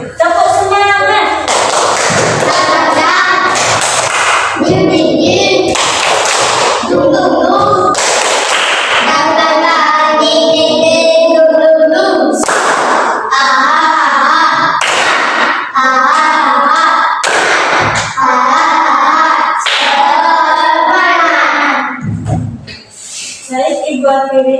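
A primary school class performs the rhythmic 'tepuk semangat' clapping chant, loud patterned claps in repeated bursts interleaved with children's voices chanting together.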